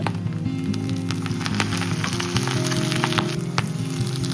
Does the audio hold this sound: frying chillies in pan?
yes